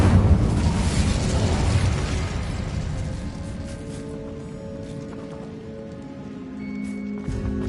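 Incendio fire spell in Hogwarts Legacy: a loud, crackling burst of flame that fades over a few seconds into a quieter background of tonal music, with no speech.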